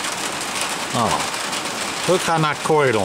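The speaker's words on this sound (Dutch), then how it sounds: "Dat regent als pest." Heavy rain falls steadily outdoors during a night out in Corydon, a constant broad hiss running beneath someone speaking Dutch.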